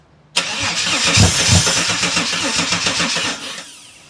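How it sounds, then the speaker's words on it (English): A Holden VS Commodore ute engine with no exhaust fitted cranks and catches suddenly, then runs loud and rough for about three seconds before cutting off and fading. "I've got no exhaust on it, so it's going to be loud."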